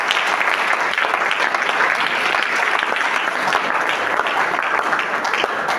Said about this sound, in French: Est-ce qu'on peut acclamer très fort ça?